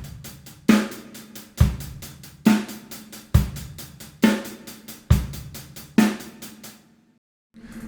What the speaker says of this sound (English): So the basic 16th note rock beat sounds like this.